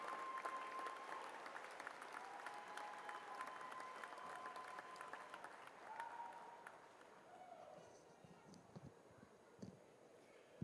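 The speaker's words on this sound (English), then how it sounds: "Graduates, please extend a huge round of applause in appreciation of all your" A college commencement audience applauds, a broad, even wash of clapping from a large crowd that gradually thins and fades toward the end, with a faint tone and scattered sounds beneath.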